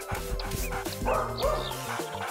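A dog barks excitedly in quick, high yips and bow-wows, close and loud, with little pauses between bursts and a slight whimper.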